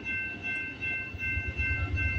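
CPKC freight train 135, led by locomotive 8112, approaching the Guelph Line crossing in Campbellville, Ontario, early in the morning, a continuous low rumble with a steady tonal hum, close and fairly loud, with no talk.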